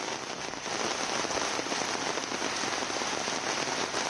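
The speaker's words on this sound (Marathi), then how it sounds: "अकोल्यामध्ये सध्या पाऊस सुरू आहे" Heavy unseasonal rain in Akola pours down in a dense, steady roar of drops hitting surfaces, continuous and fairly close with no voices.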